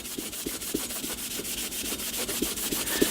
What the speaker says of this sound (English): And the more you rub, the more tarnish will come off.